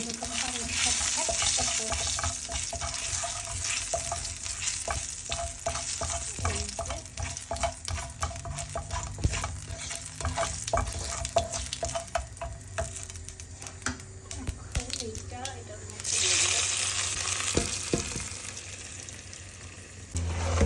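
Winter vegetables sizzle in a pan after a panch phoron five-spice tempering, with continuous stirring scrapes and spoon clicks over a steady frying hiss that eases briefly before rising again.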